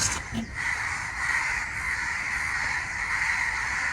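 Crows caw over a constant loud hiss of outdoor noise, their calls somewhat muffled and blended into the steady background, reacting to a crow killed by an electrical short.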